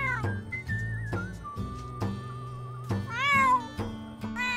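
A cat in The Sims 4 video game meows repeatedly, several clear tonal mews in a row with one longer drawn-out wail near the end, over a quiet game music backdrop.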